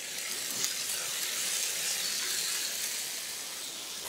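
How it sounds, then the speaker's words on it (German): Venison loin sizzles steadily in a hot pan, a dense, continuous crackling hiss that holds at the same level throughout. "Und dann geben wir das so direkt in die heiße Pfanne."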